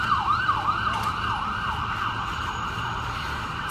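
An ambulance siren passes outdoors, its rising and falling wail sweeping steadily and loudly over a constant bed of road traffic noise, with no talking.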